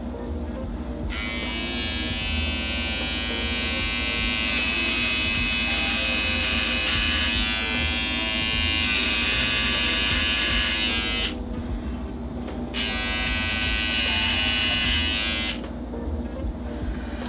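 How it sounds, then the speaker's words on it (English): A beard trimmer buzzes steadily and close up while being run over a scalp to shave a head, with brief pauses where the motor cuts out around the middle and near the end. "I'm gonna try and use my beard trimmer"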